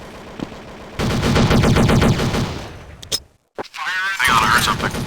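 Counter-Strike gunfire rattles in rapid automatic bursts, loud and dense, broken by a brief silence, then more shooting mixed with in-game voice callouts.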